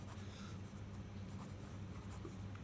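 A pen scratches steadily across paper while accounting entries are written out, a soft continuous rasp close by with no pauses or speech.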